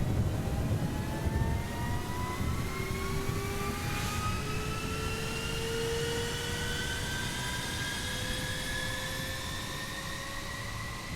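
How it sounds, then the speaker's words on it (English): F-14 jet engine in Microsoft Flight Simulator 2020 spools up, a steady whine climbing smoothly in pitch over a soft roaring hiss, held at moderate loudness with no voices. "You can hear the engine spooling up."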